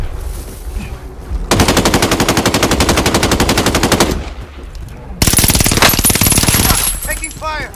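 Rapid automatic gunfire from a Godzilla vs Kong themed battle-royale game, heard as two long sustained bursts of fast machine-gun fire, loud and close, with brief quieter gaps.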